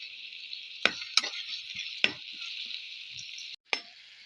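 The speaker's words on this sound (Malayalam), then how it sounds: "കുറച്ച് പച്ചമുളക്, കുറച്ച് ഉപ്പും കൂടി ഇടുന്നുണ്ട്. നമ്മൾ വഴറ്റിയെടുക്കുന്നുണ്ട്." Green chillies with salt, alongside garlic and ginger, sautéing in a pan: a steady bright sizzle runs throughout, broken by a few sharp spatula knocks and scrapes.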